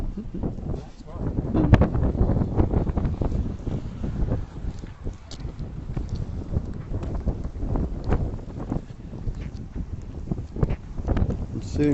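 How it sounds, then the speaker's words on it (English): Wind gusting across Princes Park in Eastbourne, a steady rough buffeting on the microphone that lasts the whole stretch, with people talking over it. "A bit windy, yes."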